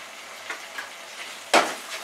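Spice masala for a Bengali aar fish curry sizzles gently as it is sautéed in a pan, with soft scrapes of stirring and one louder sweep of the spoon near the end.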